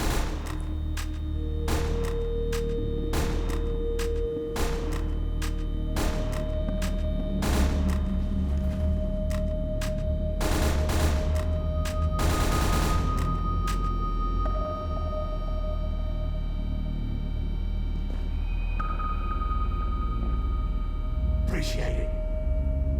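SMG fire in a video game on a weird custom map: rapid bursts of shots come and go over steady game music and tones, with a voice talking throughout.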